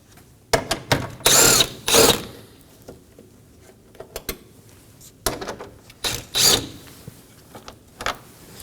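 Power drill or impact driver backing out three 10mm bolts from a Toyota Corolla bumper under the hood, several short loud whirring bursts with pauses and light clicks between them, no talking.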